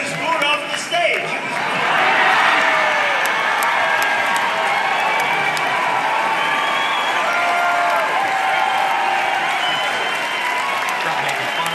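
A large crowd at a Trump rally cheers and applauds continuously, a dense roar of clapping and shouts with whoops, loud and sustained throughout.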